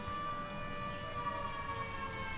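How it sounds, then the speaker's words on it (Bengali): A factory siren wails as a steady, sustained tone, held at an even pitch for the whole stretch, fairly faint and heard over quiet room ambience. "এখানে দেখো সাইরেন বাজছে সামনেই কারখানা রয়েছে সাইরেনের আওয়াজ পাচ্ছ হয়তো"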